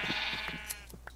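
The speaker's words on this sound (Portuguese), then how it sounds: "A gente já fez o máximo de ovelha possível aqui" A sheep bleats in Minecraft, one wavering, nasal bleat up close at the start, followed by a few soft clicks and game noises.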